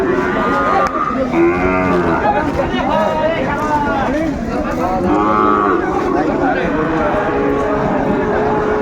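A Sahiwal bull calf at a busy cattle market moos close by, several drawn-out calls over a few seconds against a constant babble of crowd voices.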